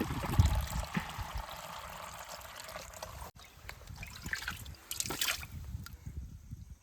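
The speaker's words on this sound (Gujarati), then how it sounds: "આપણે રૂમાલથી ગાળી લઈએ પાણી કારણ કે આપણે પીવા માટે ઉપયોગ કરવાનો છે" Water trickles and splashes steadily as it is poured through a cloth filter into a container at a lakeside island campsite, close by, with a brief louder gush toward the end; no talking.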